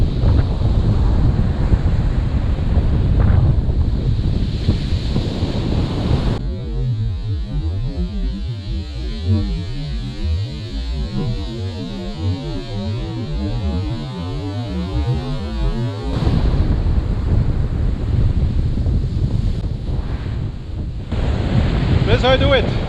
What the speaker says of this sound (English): The waves are getting bigger and bigger.